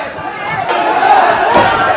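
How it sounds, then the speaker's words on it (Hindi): Crowd of Bhim Army supporters rioting in Prayagraj around a damaged police vehicle, a dense, continuous roar of shouting voices that swells in surges, close and loud throughout. "सैकड़ों की तादाद में यहां पर भीड़ मौजूद थी और इस भीड़ ने यहां पर उपद्रव करते हुए पुलिस की गाड़ी को ही नुकसान पहुंचाया"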